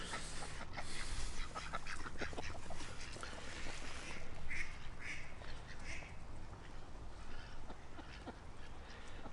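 Ducks quack at a pond, several nasal calls scattered over steady outdoor background noise, moderately distant with occasional louder bursts.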